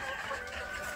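Free-range village chickens being fed leftover rice in the morning, a close, continuous chorus of clucking and soft calls.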